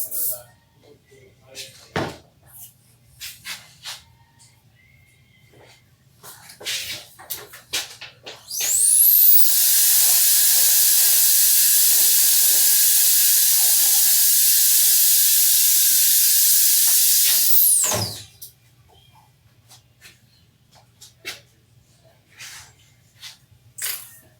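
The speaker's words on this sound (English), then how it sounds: "I'm going to throw a tiny bit of hairspray in the front before I do it." Hairspray is sprayed in a long, steady hiss that lasts about nine seconds and is loud and close. It is applied before a trim with a Stylecraft Instinct clipper, with short rustles and handling noises before and after.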